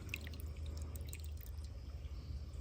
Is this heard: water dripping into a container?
yes